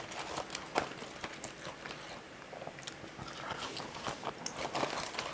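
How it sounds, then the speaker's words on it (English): Crunchy McDonald's fries bitten and chewed near the microphone, a run of irregular crisp crunches and mouth noises with no talking. "Let's try some of these fries."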